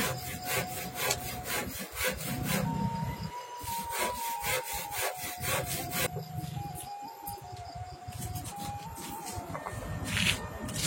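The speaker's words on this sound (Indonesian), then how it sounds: "garam, lalu giling hingga halus" Red chilies and salt ground fine on a stone grinder for Minang dendeng bakuah, a continuous rhythmic rasping and rubbing with steady back-and-forth strokes, close and without voices.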